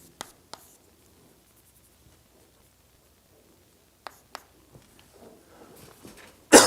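A lecturer writes on a board during a doctoral partial differential equations class: sparse, faint taps and scratches in a quiet room, with a sharper knock near the end.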